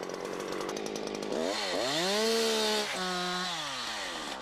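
A Husqvarna chainsaw cuts into a tree trunk, its engine loud and near, rising into a strained whine as the chain bites in and then holding a steady buzzing drone, with no voices.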